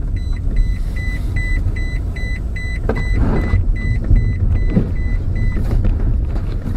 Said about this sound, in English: A little rough riding, but we're in the Prius.